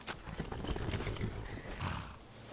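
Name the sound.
horse in a video game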